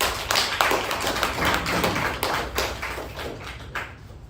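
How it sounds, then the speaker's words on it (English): A Toastmasters audience gives a dense, steady round of clapping to welcome a speaker, loud and close throughout with no talking over it. "Please help me welcome Toastmaster Chetan with a huge round of applause."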